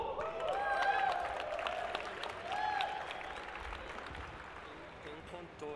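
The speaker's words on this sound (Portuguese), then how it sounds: "eu queria que vocês recebessem com uma salva de palmas o campuseiro Hugo" Audience applause welcoming a guest on stage at a Campus Party event in Brasília, a steady crowd clapping with cheers heard mid-distance, alongside tonal whoops or music.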